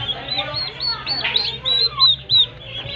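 Soft clucking and high peeping from a turkey and chicks, close by, with a voice talking over the calls.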